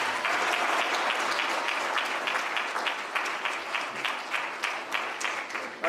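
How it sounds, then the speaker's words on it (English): A hall of fame induction ceremony audience applauds steadily, dense clapping filling the room at an even, sustained level before fading slightly toward the end. "One more round of applause for John Alberts."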